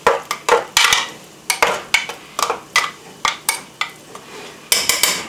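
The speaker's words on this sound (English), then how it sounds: "I'm going to stir this all together" Stirring vegetables in a cooking pot with a utensil, producing a close, steady run of sharp metallic scrapes and clinks in uneven rhythm with brief pauses, heard alone without talk.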